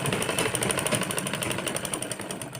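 A sewing machine runs in one continuous fast stitching burst along the belt band of a princess-cut blouse, close and steady with a rapid mechanical rattle and no talk.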